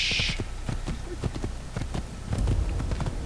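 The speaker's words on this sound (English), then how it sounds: "I'm on a horse and it's going slow" Horse hooves clip-clop at a steady trot in the Assassin's Creed video game, a regular rhythm of close, sharp strikes running through the whole stretch with a bright burst near the start.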